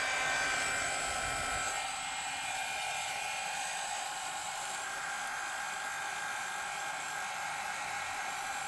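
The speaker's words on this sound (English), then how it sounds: "blower, hot air gun." A hot air gun blows steadily over resin, a continuous close whooshing hum with a whiny motor tone that holds unbroken throughout.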